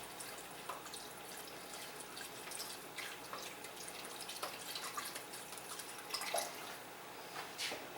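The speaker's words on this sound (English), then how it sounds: "I'm just going to pour until it's covered" Liquid pours into a pot while shrimp chowder is being made, a continuous splashing and trickling stream with scattered drips that runs at moderate volume without talk.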